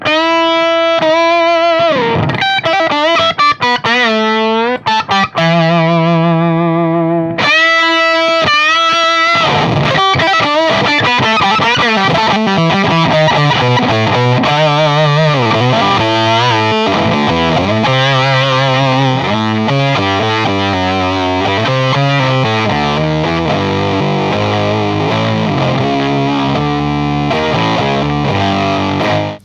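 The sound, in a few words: electric guitar through octave fuzz pedal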